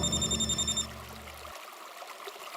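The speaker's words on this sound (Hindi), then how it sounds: "ओए टप्पू, तू फोन मत उठा ना, फोन मत उठा" An electronic telephone rings in a fast pulsing warble for under a second, then stops, leaving a faint low room background.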